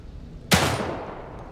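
A single loud gunshot fired at rats in The Evil Within 2, a sharp close blast followed by a decaying echoing tail that fades over about a second.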